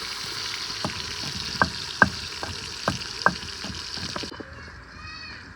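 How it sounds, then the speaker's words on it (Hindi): Chopped onions frying in hot ghee in a village kitchen, a steady sizzling hiss with several sharp clicks and pops and stirring scrapes, quieting toward the end. "घी गरम हो गया तो अब इसमें डालते हैं हम प्याज।"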